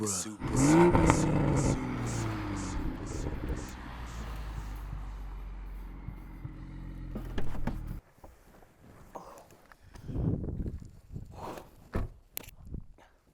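A modified 515 WHP 2021 Toyota GR Supra roars and revs loudly nearby, its harsh engine note running for several seconds before cutting off, with people talking around it.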